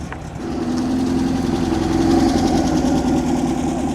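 A Porsche 356 with a 3-litre engine runs steadily nearby at a Porsche event, a deep, even rumble with a low throb that holds without revving up or down.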